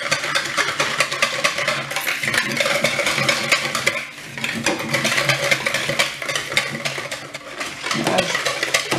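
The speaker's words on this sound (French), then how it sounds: "Voilà, je vais mélanger." Milk powder being stirred into a yogurt mixture, a steady run of scraping and clinking from utensil against bowl, close and continuous, with a brief dip midway.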